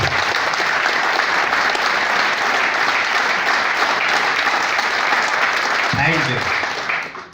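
Sustained audience applause at a speech, a dense steady wash of many hands clapping close by that swells, holds level for about six seconds and then thins out and fades at the end.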